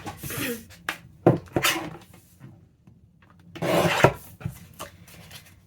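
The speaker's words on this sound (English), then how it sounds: "So I am going to get my trimmer again." Scrapbook paper sliced on a paper trimmer for junk journal ephemera, giving a few short rasping swipes close by, with quiet pauses between cuts and no talking.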